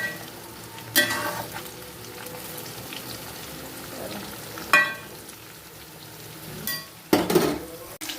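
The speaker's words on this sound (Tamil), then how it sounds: "நல்லா காய் நல்லா வதங்கிக்கிட்டு இருக்கு பாருங்கள்" Bitter gourd sautés in oil in a pan with a low, steady sizzle, broken by several louder scraping stirs and clinks of a utensil against the pan, with no talking.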